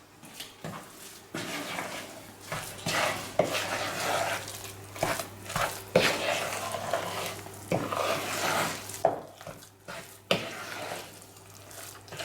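Cornbread batter with butternut and cheddar being mixed in a bowl, irregular wet stirring strokes and spoon scrapes in uneven bursts, close and moderately loud with short pauses.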